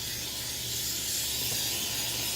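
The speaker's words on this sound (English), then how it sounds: "we got to spray this really good" Cooking spray hisses steadily out of a can into a Tupperware Jel-Ring mold, a loud, close, continuous spray that stays even throughout the short burst.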